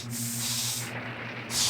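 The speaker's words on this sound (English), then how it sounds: "Hey, I got sprayed by a spray can." A cartoon spray can lets out hissing bursts, a long steady spray followed by a brief pause and a second sharp blast, loud and close over a low hum.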